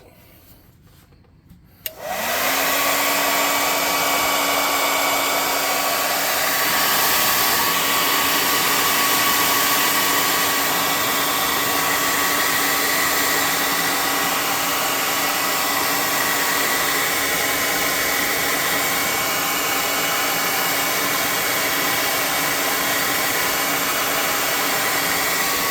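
A hot air gun blows steadily close by to dry paint on a custom tabletop creature model, starting abruptly after a brief quiet moment and then holding a loud, even whooshing roar with a constant whine for the rest of the time.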